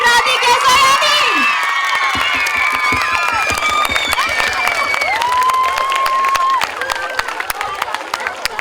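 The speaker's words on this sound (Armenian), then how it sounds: "Շատ ավելի բարձր ծափարենք" A concert audience claps and cheers loudly with scattered shouts and whistles, while voices call out over the applause, which thins toward the end.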